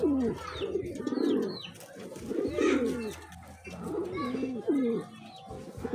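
Pigeons coo repeatedly in soft, throaty phrases, fairly close, with a few faint chirps and bird noises mixed in between the calls.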